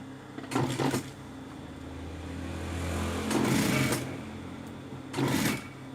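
A sewing machine stitches a trouser hem during a tailor's alteration, running in three short bursts separated by quieter pauses, with no talking.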